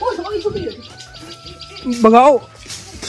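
Small bird chirps in a quick rising burst close by, with a Hindi-speaking voice talking before it and household background noise around.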